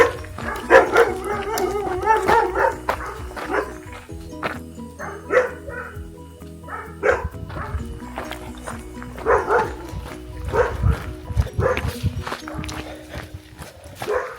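Dogs barking repeatedly along an artisan shopping lane on a Bruce Trail hike, loud, close bursts of barks in irregular clusters over outdoor background noise.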